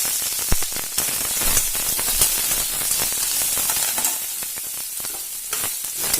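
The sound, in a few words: frying tomato chutney ingredients in coconut oil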